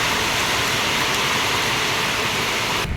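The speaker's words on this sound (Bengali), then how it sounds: "দেখো বাইরে কি মেঘ হয়েছে, প্রচণ্ড বৃষ্টি" Heavy rain falls outside as a dense, steady roar with no breaks, cutting off abruptly at the very end.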